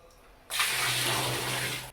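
Water gushes steadily into a barrel of mashed medronho berries, a sudden loud rushing pour that starts abruptly and continues without a break.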